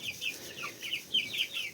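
Chickens clucking and chattering close by, several short overlapping calls in an irregular rhythm with no talking.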